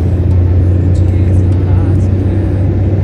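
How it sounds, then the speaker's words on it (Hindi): A serviced Maruti Suzuki Alto 800 engine hums in a steady, loud low drone on a test drive, with constant road rumble from inside the car. "इंजन की भी प्रॉपर आवाज़ आ रही है, प्यारी आवाज़ आ रही है बिल्कुल"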